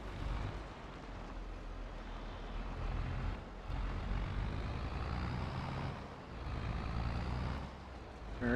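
A laden truck in Farming Simulator tipping its load of grain: a steady low engine rumble with a broad rushing pour that swells and eases in waves, continuous and moderately loud, no talking.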